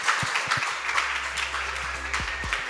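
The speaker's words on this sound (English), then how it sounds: "let's give the panel a round of applause" Audience applause for a panel at a blockchain technology meetup, a steady wash of clapping from a modest crowd with a few low thumps and a faint hum underneath.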